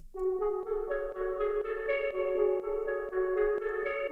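Odd synth lead built from a sine wave that gains harmonics over time through an LFO, playing a stepped melodic line of sustained notes alone at moderate level.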